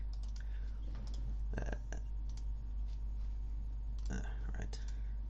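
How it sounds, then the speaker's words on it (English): Sharp computer mouse clicks come in small clusters during digital painting at a desk. They are fairly close and quiet over a low steady hum, with faint murmured speech in the background. "Right. Clicking things."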